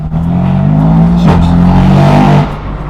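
A straight-piped BMW M4 engine revs hard under throttle, loud and close, its deep droning note building steadily before a sharp blip around a shift, then cutting off abruptly.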